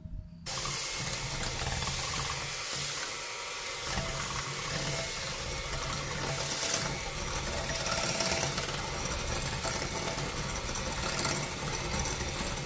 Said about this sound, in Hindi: बीटर को हमने फ्लफ़ी होने तक, जब तक अंडे फ्लफ़ी ना हो जाएं, जब तक हमने इसको चलाना है